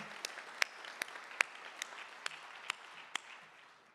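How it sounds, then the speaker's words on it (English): Sparse, scattered hand claps at a celebratory groundbreaking for the Huntsman Cancer Institute comprehensive cancer center in Vineyard, about nine distinct claps spaced irregularly over a quiet room tone, fairly faint and distant. "I gotta give him a round of applause"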